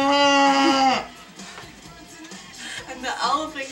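A person imitates a cow with one long, loud, drawn-out moo that falls in pitch at the end, followed by quieter voices and laughter.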